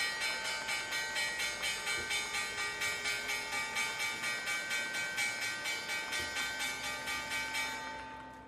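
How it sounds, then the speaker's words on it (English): A stock market opening bell rings in a fast, even run of about twenty metallic strikes, clear and ringing, then fades out at the end. "There's the bell."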